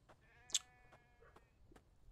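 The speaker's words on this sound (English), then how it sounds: "That sheep is really asking for it." Sheep bleating in the survival video game The Infected: a single short, loud bleat near the start, followed by faint scattered game sounds with no talk.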